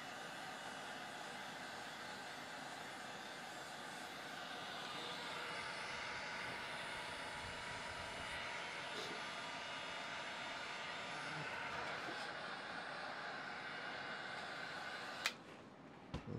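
A hot-air tool blows a steady, broadband whoosh onto a toy circuit board during a Leapfrog teardown, continuous and close for the whole stretch, ending with a brief sharp click or knock.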